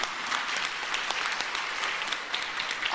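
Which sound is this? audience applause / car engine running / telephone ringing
audience applause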